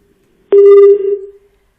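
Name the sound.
telephone line tone while calling a reporter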